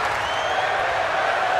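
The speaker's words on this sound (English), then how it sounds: "The crowd now chanting women's wrestling" Spectators at a women's wrestling match chant steadily, their voices merging into a dense, continuous crowd roar that stays loud and even throughout.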